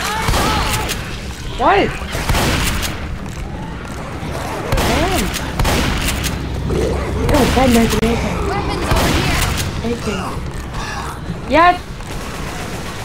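Gunfire in the video game Left 4 Dead 2 with a Minecraft mod: repeated bursts of shots and booms fill the scene while players talk and shout over them.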